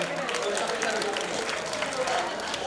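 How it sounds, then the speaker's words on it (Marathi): An audience at a Buddha Jayanti cultural program in 2024 breaks into dense, steady clapping, with voices mixed in beneath the applause. "मंगेशजी सोनकांबळे सरांसाठी एकदा जोरात टाळ्या होत होता"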